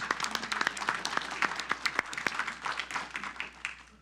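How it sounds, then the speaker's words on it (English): Applause from a modest group at a city council meeting, a steady patter of many hands clapping with a few sharper claps standing out, fairly quiet and continuous. "Let's give them another round of applause"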